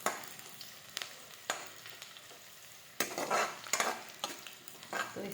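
Karmata greens drop into a pan of frying garlic and chilli tempering, setting off loud bursts of sizzling and spatter amid close scraping and stirring strokes from a utensil against the pan, with no voices.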